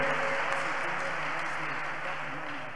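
Church congregation applauding together, a steady dense wash of many hands clapping at moderate level for the whole stretch, with faint speech in the background.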